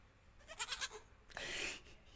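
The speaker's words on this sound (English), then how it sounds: "It's clearly a baby goat." A baby goat bleat sound effect plays as a short quavering cry, followed after a brief pause by a second, harsher and longer bleat, both close and clear against silence.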